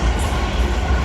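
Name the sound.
South Western Railway Class 450 electric train passing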